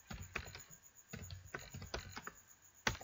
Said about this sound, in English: I type the command ifconfig.